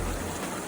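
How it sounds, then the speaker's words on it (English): Steady rain falls in Sedona, a dense even hiss that fills the whole brief moment with no talking. "We've had so much rain we've had in about 40 minutes. That's a lot of rain."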